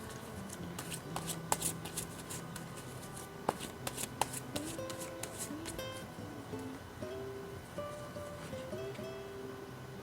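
Tarot cards are shuffled by hand for a reading, with rapid riffling bursts and soft flicks that come close and fairly quiet, then give way to lighter slides and taps.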